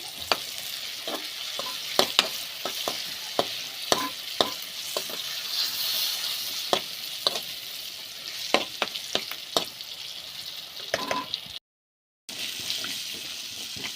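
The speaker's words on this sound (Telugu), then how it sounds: "కొబ్బరి ముక్కలు మంచిగా వేయించుకుంటున్నాను" Small coconut pieces fry in a pan, a steady close sizzle punctuated by regular spatula scrapes and knocks against the metal, with a brief silent gap.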